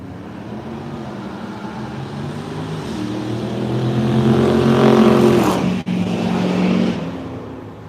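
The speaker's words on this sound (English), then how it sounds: "We're just doing a little quick drive here." Car on a quick drive around Pigeon Forge in the Smoky Mountains, a steady engine hum and road noise from inside that swells as it accelerates, then briefly cuts out.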